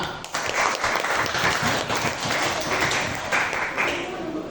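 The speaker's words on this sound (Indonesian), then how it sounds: "tepuk tangan untuk kelompok 5" Classmates applaud group 5 during an academic coaching session in a classroom, a brisk burst of close, even clapping that stays lively for a few seconds.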